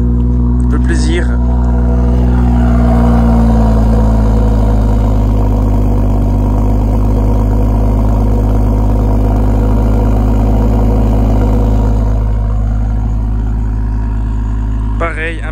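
A BMW M140i sitting at idle with a deep, steady engine rumble held close and loud for about fifteen seconds, changing little throughout.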